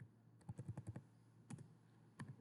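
A name being typed on a computer keyboard, a quick burst of close key clicks, then two short separate groups of taps after brief pauses, quiet with no talking.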